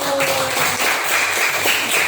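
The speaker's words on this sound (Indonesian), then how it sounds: "Beri tepuk tangan buat kelompok 1" Classroom group applauding a team of students after a practice teaching session, steady dense clapping throughout with no break, moderately loud and fairly close.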